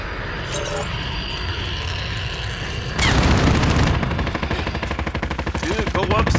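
Rapid automatic gunfire in Call of Duty: Modern Warfare, loud bursts of machine-gun fire that intensify partway through as an aircraft is shot down, with faint game ambience before.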